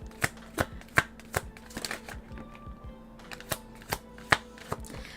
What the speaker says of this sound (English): I'm just sitting here and shuffling